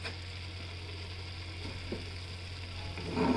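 Cabbage and capsicum sauté in a pan, giving a steady soft sizzle under a constant low hum with no talking.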